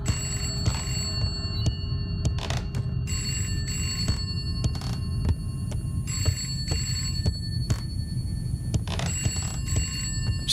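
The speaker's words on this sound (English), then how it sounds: "Phone, where are you?" A telephone rings repeatedly in the horror game Contemp, sharp bursts of bell-like trilling in an irregular pattern over a low droning background hum, fairly clear and alone.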